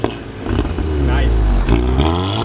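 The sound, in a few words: car engine revving at a car meet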